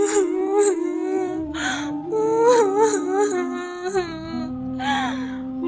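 A cartoon bird character crying in wailing, sobbing vocal tones, voiced by a person, with rising and falling whimpers and gasps in a continuous tearful stretch.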